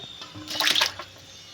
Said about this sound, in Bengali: এই যে 4 ভাগ করে কেটে নিয়েছি, এখন দিয়ে দেব জলের ভিতরে।